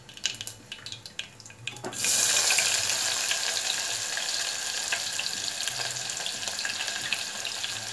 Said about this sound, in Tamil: வெங்காயமும் கருவேப்பிலையும் போடுறேன்.